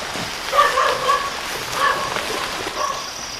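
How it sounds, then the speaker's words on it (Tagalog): Several dogs bark outside a house at night, a few sharp yips and barks in short bursts at moderate distance over a steady hiss of background noise. "Nagkakahulan yung mga aso."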